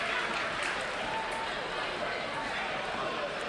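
Spirited crowd at a Sterling High sports event: a steady wash of cheering and clapping from a large audience, even in level throughout, with scattered shouts blended into the din.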